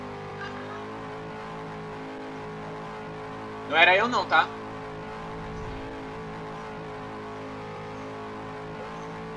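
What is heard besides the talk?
race cars in the video game Cars 3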